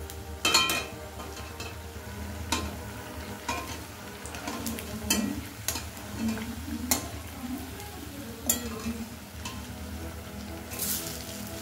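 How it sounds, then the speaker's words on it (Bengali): Rice flour and raw potato snack fries in hot oil in a pan, a steady sizzle broken by scraping stirs and occasional utensil clinks against the pan. "এক পিঠটা সুন্দর লাল লাল হয়ে ভাজা হয়ে গেছে। আমি অপর দিকটা উল্টে দিয়েছি।"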